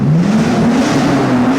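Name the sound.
Nissan R34 Skyline engine revving and popping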